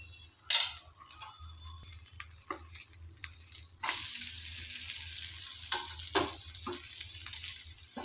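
Egg omelette frying in oil in a home kitchen pan, a soft steady sizzle with occasional sharp ticks and scrapes of a utensil, fairly quiet and close.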